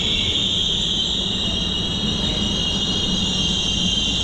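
A train passes at Empoli railway station in Italy, a steady loud rumble of wheels and carriages with a persistent high metallic squeal running throughout, no voices.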